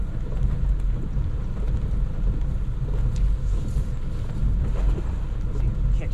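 Steady, dense rain pours onto a parked car, a continuous rushing patter with low rumble, heard from inside the vehicle throughout without pause.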